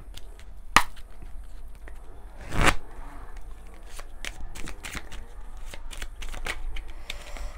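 Oracle cards being shuffled by hand close up: scattered crisp riffles, slaps and flicks with a few louder snaps, over a quiet background.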